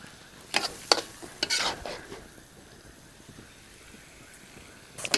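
Metal utensils scrape and clatter against a wok while kuey teow noodles sizzle steadily underneath; several quick stirring strokes early on, then a softer frying hiss.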